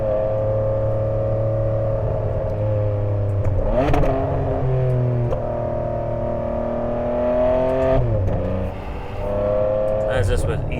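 A 2009 Ferrari 599 GTB Fiorano engine pulling smoothly under easy throttle, a steady harmonic drone that rises through gentle shifts, loud and close from inside the car.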